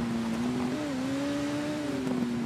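A superbike engine in the TT Isle of Man video game, on the Snaefell Mountain Course, holds a loud, steady buzzing tone that climbs slightly in pitch as it accelerates, with no voices.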